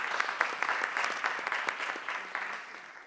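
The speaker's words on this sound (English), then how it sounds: "Another round of applause," A conference audience at a Caribbean regional risk event applauds a panel. The clapping is moderately soft and sustained, with scattered individual claps standing out.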